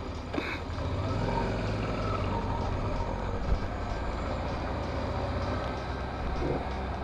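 A car scrapes along the road while driving, heard as a steady, loud rumble of vehicle noise with a low grinding drone, continuous throughout and without talk.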